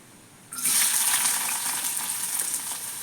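Food dropped into hot oil sets off a sudden loud, steady sizzle and crackle that holds for the rest of the moment, in a home kitchen cooking a fenugreek-leaf and broad-bean curry with garlic and cumin.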